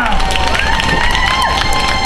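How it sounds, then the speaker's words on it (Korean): An audience at an amateur singing contest cheers loudly and claps, a dense, sustained roar of many voices with shouts and whistles throughout. "함성."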